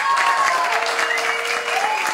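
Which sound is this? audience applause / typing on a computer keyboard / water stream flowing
audience applause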